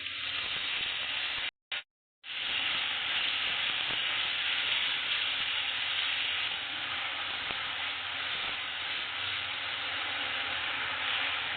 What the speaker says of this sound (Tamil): தக்காளியோட பச்சை வாசனையெல்லாம் நல்லா போற வரைக்கும் நம்ம வதக்கிக்கலாம்